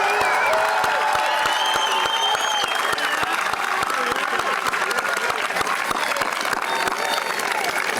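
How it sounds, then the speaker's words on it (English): Audience applause fills a high school graduation ceremony for a class of 2024, a steady, dense wash of clapping with crowd noise and scattered cheers, loud and sustained throughout. "One more round of applause for the Millis High School class of 2024."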